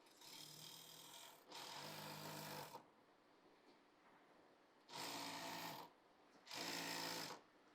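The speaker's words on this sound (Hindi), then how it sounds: "अब यहाँ पर ऐसे फैब्रिक को एकदम साफ कर लेंगे, फिर सिलाई लगाएंगे।" A sewing machine stitches salwar suit fabric in four separate bursts of steady whirring, each lasting about a second, with short quiet pauses between them, close and clear.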